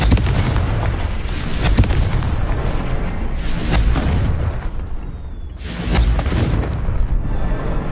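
An explosive spell cast in a Harry Potter video game, with heavy, booming blasts over a continuous rumble and the strongest bursts arriving around two, three and a half and six seconds.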